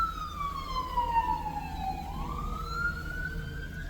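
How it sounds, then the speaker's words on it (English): Emergency vehicle sirens wail at moderate distance, a single wavering tone sweeping down then rising again over steady low traffic rumble, with no talk. "sorry about the sirens."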